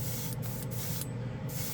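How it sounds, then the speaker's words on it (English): Spray paint hisses steadily from a can onto plastic model pieces on a workbench, a continuous, close, fairly loud hiss with no pauses and no talking. "Now you can spray it over."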